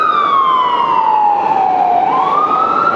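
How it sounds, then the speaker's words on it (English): A loud fire truck siren wails steadily in New York City traffic, its pitch sliding slowly down and then rising again over constant road noise. "Another fire truck,"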